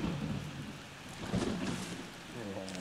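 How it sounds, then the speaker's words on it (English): Steady rain ambience in the Plants vs Zombies level Yeti In The Dark, a soft continuous patter and hiss with a low rumble beneath, with no music. "there's just no music, it's just rain."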